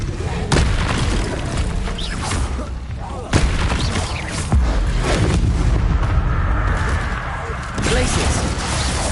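Expelliarmus spell cast in Hogwarts Legacy combat, sharp booming impacts and cracks repeating at irregular intervals over a loud rumbling battle bed, with brief voices.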